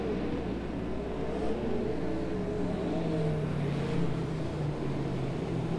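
Race cars in a heat race at Silver Dollar Speedway roar steadily in a continuous, loud engine drone, with pitch rising and falling as they lap the track, no voices heard.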